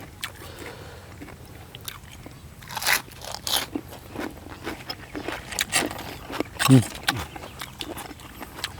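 Loud, close crunches and bites of crispy vegetables come repeatedly as someone eats spicy som tam, interspersed with chewing noises and casual talk.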